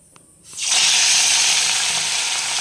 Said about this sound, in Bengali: এবার এই মাছগুলো আমি ভেজে নেব।